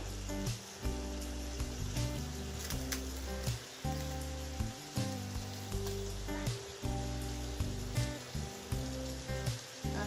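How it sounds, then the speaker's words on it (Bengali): Hilsa paturi, fish wrapped for cooking, frying slowly in a pan: a steady, rain-like sizzle with a faint hum beneath it, continuous and moderately close. "আমি এক সাইড করে ভেজে নিচ্ছি তো আমি এখন এই সাইডটা ঘুরিয়ে দিচ্ছি"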